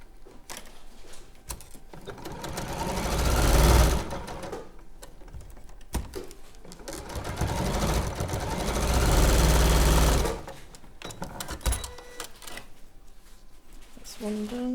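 A sewing machine stitches fabric squares together for a Cathedral Window Christmas project, whirring in two sustained bursts separated by quieter pauses, with a voice speaking softly in between.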